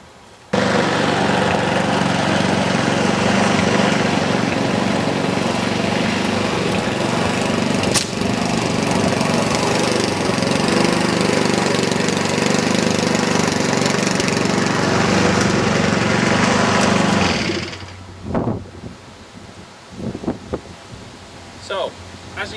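A garden lawn mower runs loud and steady at close range while mowing around a garden bed, then cuts out near the end, leaving faint rustling and a few knocks.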